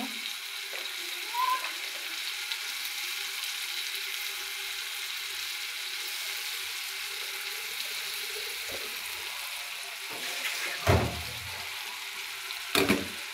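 Vegetables sizzle in hot spiced oil for a mola fish, brinjal and pui greens chorchori, giving a steady close frying hiss with a few sharper clatters from stirring toward the end.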